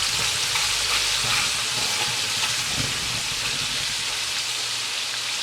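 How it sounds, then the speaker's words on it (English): Chopped garlic and onion frying in hot oil while being stirred, a steady loud sizzle and crackle that fills the clip, close up with no talking. "I'm just gonna mix my garlic and my onion in there together, and then let it give it a nice little stir."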